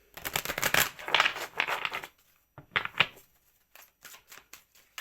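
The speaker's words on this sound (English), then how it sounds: "Let's shuffle." Tarot cards shuffled by hand at close range, with a few dense riffling bursts, a brief pause, then softer, scattered card flicks.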